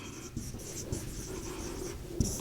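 A pen or marker writes the word ionosphere during a network theory lecture, making quick, close scratchy strokes in an irregular rhythm against a steady background hum.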